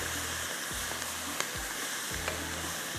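Fennel seeds and mustard seeds sizzle and fry in hot oil for a pickle-style okra masala tempering, a steady close crackling hiss with a few soft stirring clunks and no talking.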